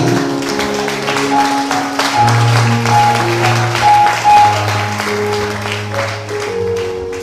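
A church congregation applauding to acclaim the Lord, steady sustained clapping layered over loud music with held tones, continuous throughout.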